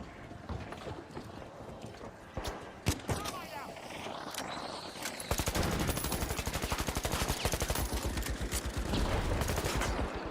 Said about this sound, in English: I'm gonna put a turret in here.